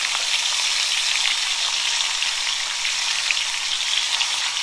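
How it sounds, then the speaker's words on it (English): Steak sears in a hot pan with olive oil, a dense, constant hissing sizzle that holds at an even, fairly loud level throughout without speech. "This will help them to sear on all sides."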